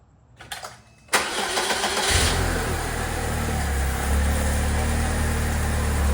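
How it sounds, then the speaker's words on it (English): A Saab 9-3 2.0T turbo petrol engine cranks briefly and fires up, settling into a steady, close idle that carries on alone to the end. "Let's hope she starts, no check engine light or anything."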